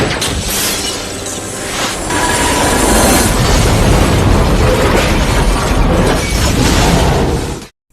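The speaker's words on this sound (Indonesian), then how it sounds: "John menembaki kabel itu dan mengenai helikopter Simon dan menyebabkan helikopter itu meledak" A helicopter explodes in a Die Hard film: a loud, dense blast that swells into a sustained roaring, crackling burst lasting several seconds, then cuts off abruptly, with no voices.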